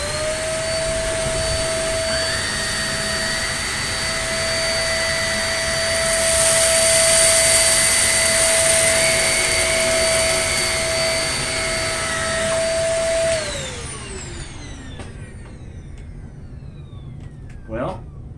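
A Shark NV22 vacuum cleaner runs loud and close with a steady high whine and rushing airflow, picking up spilled flour and oats, then winds down as the motor is switched off.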